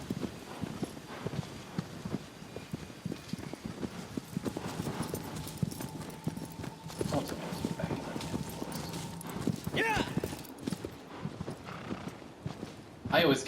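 Horse hooves galloping in the video game Shadow of the Colossus: rapid, regular clip-clop beats at a steady pace, with a brief whinny partway through and people talking over the game.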